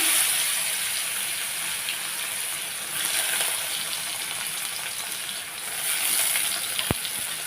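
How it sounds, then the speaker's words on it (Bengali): Pieces of pointed gourd (potol) frying in very hot oil in a pan, a loud, steady sizzle and crackle that holds throughout, ending with a sharp click. "এখন আমার তেলটা বেশ গরম হয়ে আছে এই যে পটলগুলো দিয়ে দিচ্ছি"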